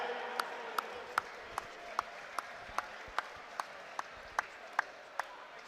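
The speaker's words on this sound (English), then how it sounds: "We're going to have all the boxers coming back into the ring now to receive the applause of the crowd who are left." At the Inter Services Boxing Championships, a thinned crowd in a boxing arena applauds the boxers. Many claps blend into a steady wash, with sharp, evenly spaced single claps standing out about every half second, moderately distant and without talk.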